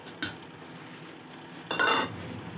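A metal cooking pot is set on a stove to fry okra, giving a quick clank followed by a louder scraping clatter, near and clear in a quiet kitchen.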